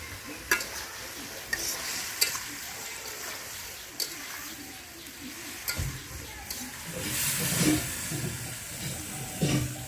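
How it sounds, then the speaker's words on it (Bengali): Gravy poured into a cauliflower and potato curry in a hot pan brings a hissing, bubbling sizzle, punctuated by a few sharp spatula knocks and scrapes, with the simmer swelling louder toward the end. "তরকারিতে প্রয়োজন মতো ঝোল ঢেলে দেওয়া হলো।"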